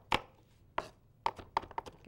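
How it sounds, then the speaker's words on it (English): Knife chopping food on a cutting board in a home kitchen, sharp close knocks: a few spaced single chops, then a quicker run of several strikes near the end, with no talking. "Give these a little more of a chop."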